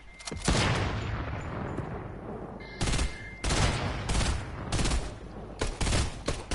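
Repeated bursts of loud gunfire in Fortnite, several heavy volleys separated by short gaps, close and dominant over the game background.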